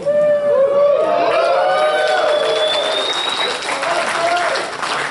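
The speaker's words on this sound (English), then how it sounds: "I'm glad to hear everyone cheer." A loud audience cheers and applauds together: sustained crowd clapping is layered with high whoops and shouting voices, holding strong for several seconds with a brief dip before swelling again.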